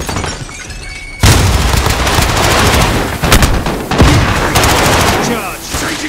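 Gunfire in a Call of Duty Modern Warfare team deathmatch, loud dense bursts of automatic weapons and single cracks close by, rapid and continuous after a quieter opening moment.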